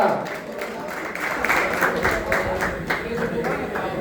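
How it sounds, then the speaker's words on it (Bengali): Audience applause at a pigeon club champions award ceremony as a trophy and certificate are presented, a steady wash of many hands clapping with a voice talking over it throughout. "জোরে হাততালি হয়ে যাক একটা"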